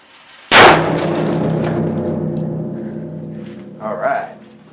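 A cannon fires a 1.5-ounce load of BBs at a computer keyboard, one sharp loud blast followed by a long ringing decay, with a brief clatter near the end.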